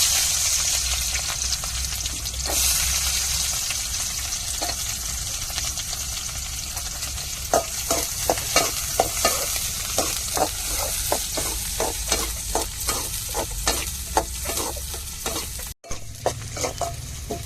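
Onions and dried red chilies fry in a pan for a dried-fish stir-fry, a continuous sizzle punctuated by a run of sharp, rhythmic spatula scrapes and taps, close and without speech.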